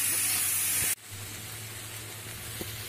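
Chopped tomatoes fry in a pan on a gas stove for a kadhai mushroom masala, a soft steady hiss and sizzle that drops briefly and then continues quietly.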